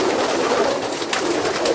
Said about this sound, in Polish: są to gołębie młode